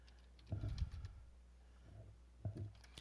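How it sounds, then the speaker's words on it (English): Faint clusters of keyboard taps come in short bursts separated by pauses, quiet and close, with no voices. "say you're typing in a phrase, you would type the phrase in"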